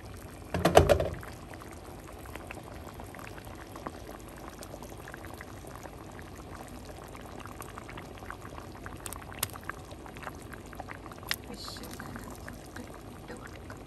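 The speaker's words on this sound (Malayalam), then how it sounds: "ഇപ്പോൾ തിളച്ച് വരുന്നുണ്ട്" Mahi mahi fish curry made with coconut milk simmers in a pot, giving a soft, steady bubbling that stays faint and continuous after one louder knock near the start.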